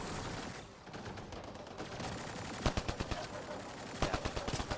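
Gunfire in the Mass Effect video game, rapid bursts of shots growing denser in the second half over a busy combat soundscape, fairly quiet overall.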